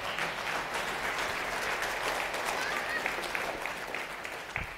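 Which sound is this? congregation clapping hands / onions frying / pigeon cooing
congregation clapping hands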